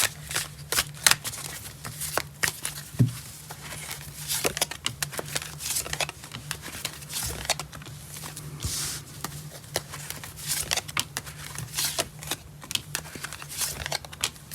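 Tarot cards are shuffled repeatedly in quick, crisp riffles and flicks, close up, with soft rustling between bursts and no talking.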